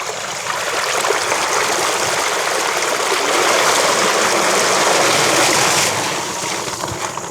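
An electric bike with a half-twist throttle rolls through water on a flooded country road, a continuous close hiss and splash of wheels cutting through water mixed with wind buffeting, no speech.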